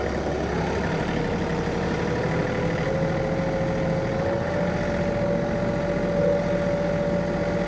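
Tractor in B range, third gear, moving fast down a dirt road while pulling a land plane, its engine a loud, steady, continuous drone with a slowly rising whine and no talking.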